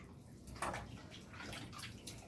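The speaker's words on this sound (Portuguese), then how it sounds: "Agora nós vamos mergulhar na água aqui." Sanded clay pots dipped into water, a soft splashing and sloshing close by with a couple of brief surges, continuous and without speech.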